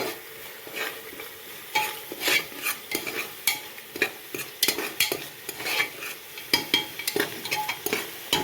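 Masala fries in a pan with a steady sizzle while a metal spoon stirs and scrapes it in quick, repeated strokes, close and clear with no talking.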